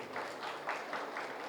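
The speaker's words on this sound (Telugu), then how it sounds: "నిజంగా వీరందరికీ ఒకసారి గట్టి క్లాప్స్ అండి" An audience at a meditation celebration event in Kothapeta applauds steadily, a soft, distant wash of clapping with slight swells, no talking over it.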